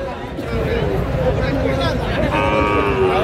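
A Sahiwal bull calf at a busy livestock market lows in a long, drawn-out moo amid a crowd's babble and nearby talking.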